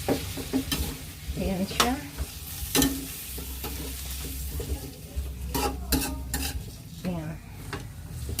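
Vegetables, including squash, simmer with lechon in a pan, giving a soft sizzle under repeated scraping and clinking stirring strokes, while a voice briefly speaks.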